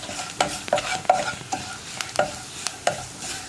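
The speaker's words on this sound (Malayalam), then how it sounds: "ഇനി പൊടികളൊന്ന് കുക്കായി വരുന്നത് വരെ ഇളക്കി കൊടുക്കുക." A spoon stirs chili powder in a pan for a Kerala salted mango curry, scraping in about eight distinct strokes at an even pace with a faint sizzle underneath, close and alone.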